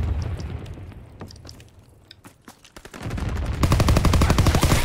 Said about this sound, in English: Enemy flak incoming.